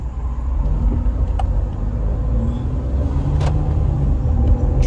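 Steady low road rumble of a car driving, continuous and fairly loud throughout with a few brief clicks and knocks on top, no talking.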